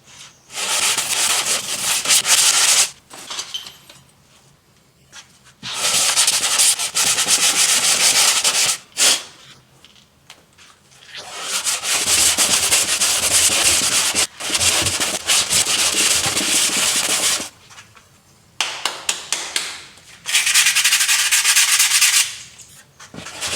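Long strokes of sandpaper rub across the body panels of a Lexus LS400 car, loud bursts of broadband scraping lasting several seconds each, separated by short pauses, with no voices.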